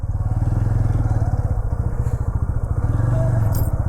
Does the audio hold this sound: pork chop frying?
no